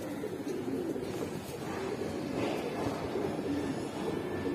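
Giribaz pigeons coo in a loft, a steady, soft, low cooing that continues against a constant background murmur.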